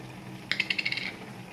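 Tempering seeds hit hot oil for a broad bean (goduchikkudu) fry, giving a quick burst of about eight sharp crackles and pops over steady kitchen background noise, then settling into a soft hiss.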